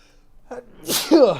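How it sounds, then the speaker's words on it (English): A single close, loud sneeze with a short sharp inhale before it, in an otherwise quiet room. "I gotta sneeze."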